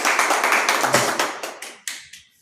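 Applause from a crowd at a political party meeting where office-bearers are announced: a brisk burst of many hands that thins into a few scattered, separate claps and then fades out.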